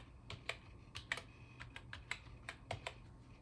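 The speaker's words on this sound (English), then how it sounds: "Let me try typing that in again." Quiet, close keystrokes on a computer keyboard as a Wi-Fi password is entered on a Power Mac G4, about a dozen separate clicks in an uneven rhythm.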